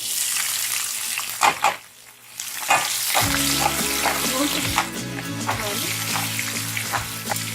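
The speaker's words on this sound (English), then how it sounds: "Roast the cloves of garlic. Now add green chilies as per your taste." Garlic cloves and green chilies sizzle loudly in a hot pan, a steady crackling hiss that starts after a brief quiet gap, broken by a few sharp clatters of the spoon.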